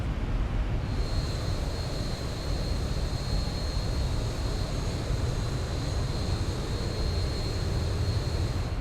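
Steady jet airliner cabin roar in the X-Plane 11 flight simulator during a night descent, a continuous broadband rumble with a thin steady high tone, loud and unbroken with no talk.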